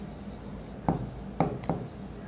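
A pen writes an answer on paper in a steady scratching scrawl, with a few sharper strokes standing out close up; no one speaks.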